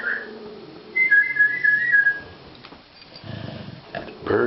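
A bird whistles bright, sustained tones indoors, clearest in the first couple of seconds, while a dog grumbles and shuffles nearby in the background.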